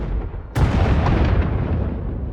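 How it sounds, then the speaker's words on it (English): Heavy explosions rumble continuously from a bombing in the video game Star Wars: The Old Republic, a sharp broadband blast hitting early and then a dense, sustained roar of booms with no talk. "Sounds like the bombing's getting closer."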